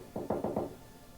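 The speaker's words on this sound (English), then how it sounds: "Confused, Alice knocked on the door." Four firm knocks on a door in quick even succession, close and distinct, with nothing else heard.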